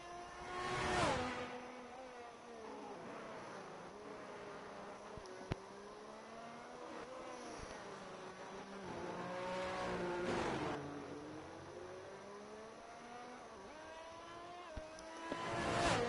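High-pitched whining Alfa Romeo F1 car engine lapping Silverstone in a racing video game, revs rising and falling steadily through gear changes, sustained and fairly close with a few brief spikes.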